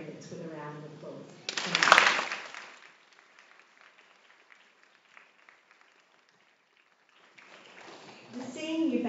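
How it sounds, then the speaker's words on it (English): A school assembly audience applauds the senior band, a burst of clapping that swells and then fades to near silence, with a voice speaking just before and after. "So I would like to recognise their efforts with a round of applause."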